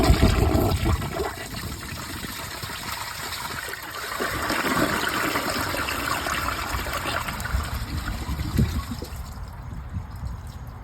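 A high-efficiency dual flush toilet refills after flushing, with a steady rushing and trickling stream of water into the tank and bowl, fairly close, the flow thinning toward the end, with no speech.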